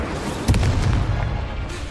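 A booming Incendio fire spell goes off in the Hogwarts Legacy video game, a sudden heavy burst followed by a rumbling tail that fades over the next second.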